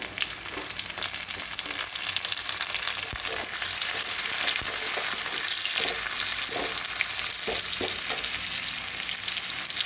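Butter with slit green chillies and browned onion sizzling in a pan for ghugni, a loud, continuous close-up crackle and hiss with occasional stirring knocks and no talking.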